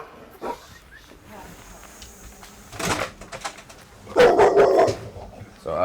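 A mother dog with puppies barks in a few loud bursts, the strongest near the end, mixed with some whimpering and people talking nearby.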